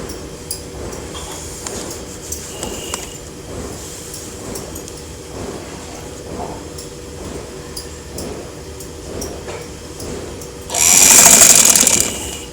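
A sewing machine stitches a simple baby top, with light rhythmic clicking and ticking under a low hum, then a loud, dense whirring run of stitching near the end.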